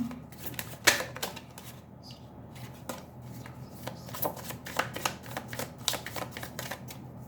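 Tarot cards being shuffled by hand, a run of soft papery riffles and flicks with a few sharper snaps, fairly close and quiet, with no talking.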